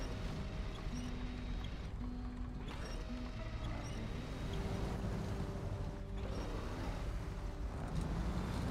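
A boat engine drones steadily in a video game on PS5, a low continuous hum with faint tonal whines and occasional knocks over a snowy, rocky setting.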